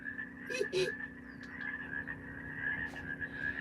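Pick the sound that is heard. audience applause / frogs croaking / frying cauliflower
frogs croaking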